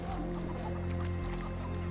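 Chickens cluck continuously near the coops in a Sherlock Holmes video game, a busy layered fowl chorus over a steady low background hum.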